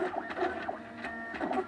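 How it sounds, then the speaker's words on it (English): A MakerBot Industries 3D printer at work, its stepper motors making rhythmic whirring chirps and short rising and falling tones as the print head moves, close and clear. "my wonderful MakerBot Industries 3D printer"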